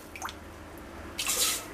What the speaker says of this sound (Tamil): 7 கப் தண்ணி சேர்த்துக்கலாம்.